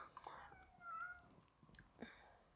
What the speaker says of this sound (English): This is Dudu, one of my cats.